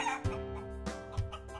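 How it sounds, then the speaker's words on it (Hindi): A hen clucks in a children's story, a few short clucks that come close and clear with brief gaps between them and no talk. "मुर्गी दौड़ी हुई आई,"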